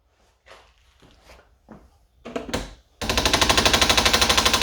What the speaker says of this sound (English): It's just getting rid of the residue and the rubbish out of the actual machine.